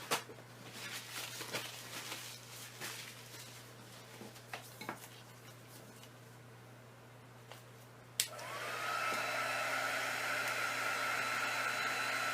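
A heating tool blows on poured resin in an art piece, a steady close whooshing airflow that switches on partway after light clinks and handling noises.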